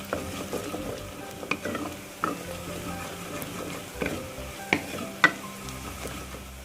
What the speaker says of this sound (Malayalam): ഇതിലേക്ക് നമ്മൾ ചേർക്കുന്നത് 1/2 ടീസ്പൂൺ മല്ലിപ്പൊടിയാണ്. നന്നായിട്ട് വഴറ്റി കൊടുക്കാം